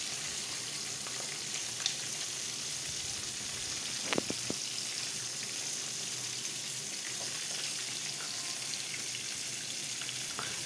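A mixture of sauce cooked on the stove and reduced for a lâche (fish) escabèche gives a steady, even sizzle and gentle bubbling throughout, with a few brief clinks near the middle and no talking.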